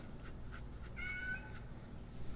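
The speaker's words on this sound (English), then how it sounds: "I'm so sorry, I have my cat here." A pet cat gives a couple of short, faint meows close by in a quiet indoor room, over a low steady background hum.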